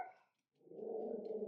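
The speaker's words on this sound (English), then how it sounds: "what you barking at?" A dog at home gives a single short, gruff bark, close and moderately loud, after a brief quiet moment.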